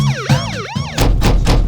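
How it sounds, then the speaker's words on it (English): Police car sirens used as a sound effect in a song: loud wailing sweeps rise and fall twice, then give way to a series of heavy thumping hits. "you can hear the sirens from the cop cars kind of going in the background as well"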